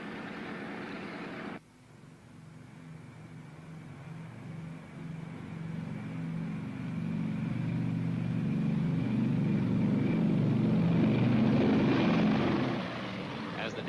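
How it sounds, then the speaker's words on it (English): DC-3 propeller airliner engines idle at the end of a runway, a steady low droning rumble that swells gradually louder and then eases, with no talk over it. "The DC-3, engines idling, stood by at the end of the runway"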